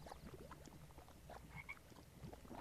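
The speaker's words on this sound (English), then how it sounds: "there is a frog in here that hops on the water" Frog croaks from a frog hopping on water in a zoo built in The Sims 4, a soft game sound heard faintly among a dense, steady bed of background ambience.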